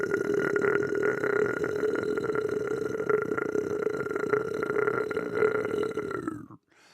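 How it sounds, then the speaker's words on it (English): A long, deep, growling burp that rumbles on steadily for about six seconds with a gritty, distorted texture like a death metal growl, loud and close, then cuts off abruptly. "You can either call that a burp or a death metal growl."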